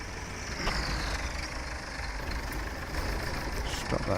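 A tractor engine idles in Farming Simulator 17 on a 1960-era farm, a continuous low rumbling drone with a faint whine above it, steady and close throughout.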